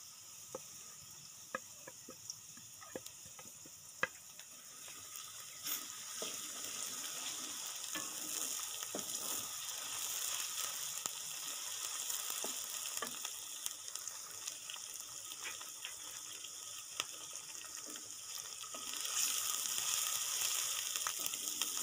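Steady sizzling of garlic, ginger and green chili frying in a hot pan for dal tadka, with scattered crackles and pops throughout; close and continuous, growing slightly louder toward the end, no talking.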